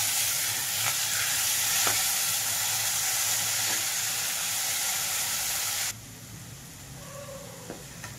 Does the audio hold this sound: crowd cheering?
no